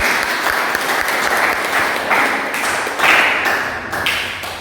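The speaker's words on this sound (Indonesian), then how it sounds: "tepuk tangan untuk Edi" A university classroom of students claps for a classmate, a close, lively patter of many hands with a few sharper individual claps and taps standing out as it gradually tapers off.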